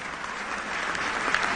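Round of applause from a banquet crowd at the 1995 White House Correspondents' Dinner for award winners, a dense even clatter of clapping filling the brief moment.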